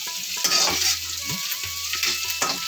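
Onions and spices sauté in a pan for bottle gourd curry, a bright steady sizzle with intermittent spatula strokes and low hums, heard up close and alone.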